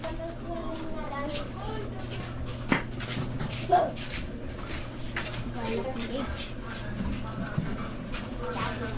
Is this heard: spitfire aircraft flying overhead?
no